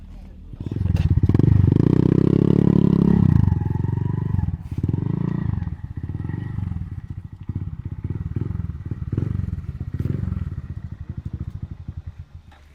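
A Honda Monkey motorcycle engine running nearby, a loud revving burst that settles into a rough, pulsing idle, with people talking over it.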